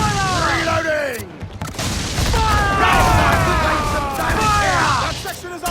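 Naval ship cannons firing during a sea battle in Assassin's Creed 4: Black Flag, heavy booming blasts rolling under shouting crew voices and game noise.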